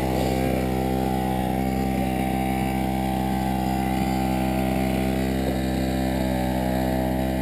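Pocket bike engine mounted on a motorized GT snow racer, idling high with a steady, loud, buzzing drone that holds constant throughout, close up with no talk.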